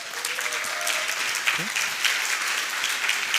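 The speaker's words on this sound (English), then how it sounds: "One more round of applause for everyone else who didn't feature as an option" Conference audience at PyCon Italia 2025 applauds Python core developers: dense, steady clapping from a large room filling the whole stretch, with a brief spoken word from the stage partway through.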